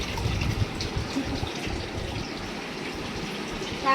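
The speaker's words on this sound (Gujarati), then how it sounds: "કુલરમાં પાણી ભરીએ છીએ" Steady pouring water gushes and splashes continuously at a moderate, even level as an air cooler is filled, with no voices.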